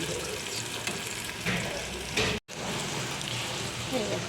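Egg curry with fried eggs cooking in a pan gives a steady, dense sizzle and bubbling hiss close by, continuous apart from a brief cut near the middle.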